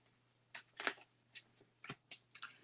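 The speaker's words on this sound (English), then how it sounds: "I'm going to keep shuffling here" A deck of playing cards is shuffled by hand, giving a series of short, soft riffling bursts with quiet gaps between them, close but faint.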